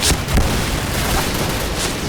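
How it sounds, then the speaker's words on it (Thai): Dense, loud bursts of gunfire and grenade blasts from a Point Blank shooter match, a continuous crackling barrage with heavier booms near the start and around the middle. "ปาระเบิดเข้าไปครับ ระเบิดยัดแม่งเข้าไปให้หมดอ่ะ"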